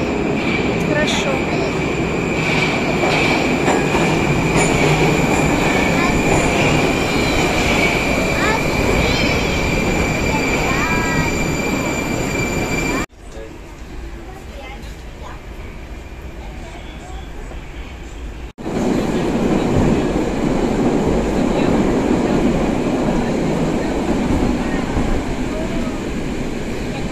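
A new metro train riding in Moscow, with a loud continuous rumble and high whine of wheels on rails, a sudden quieter stretch in the middle, then the roar returns. People talk briefly over the noise.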